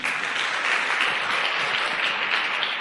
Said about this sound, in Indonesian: Tepuk tangan buat One Vision.